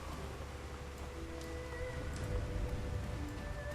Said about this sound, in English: Looks like the rain's giving us a little bit of...